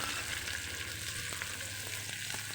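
Onions frying with mustard seeds and curry leaves, stirred in a pan: a constant bright sizzle with a few light utensil scrapes, close by and even in level, no voices.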